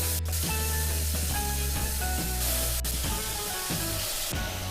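Shredded cabbage cooking in oil with turmeric and asafoetida, a steady hiss and sizzle under tonal background music.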